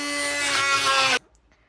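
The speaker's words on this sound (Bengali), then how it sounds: "এখন হ্যান্ড ব্লেন্ডারটা দিয়ে ব্লেন্ড করবো" A hand blender whirs steadily while pureeing ginger-garlic paste with oil, a loud buzzing motor that runs alone for about a second before cutting off abruptly into near silence.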